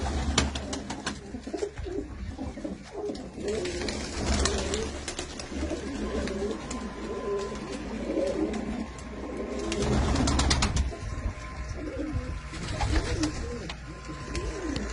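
A flock of pigeons coos continuously, overlapping throaty calls close by, with occasional bursts of wing flapping and rustling.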